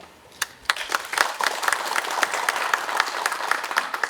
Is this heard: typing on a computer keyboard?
no